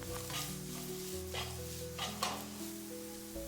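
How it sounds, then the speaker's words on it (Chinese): Taro pieces sizzle and stir-fry in a wok until the skin turns lightly golden. A continuous close frying hiss plays with occasional scraping stirs and no talk. "把香芋的表皮炒至微微金黃"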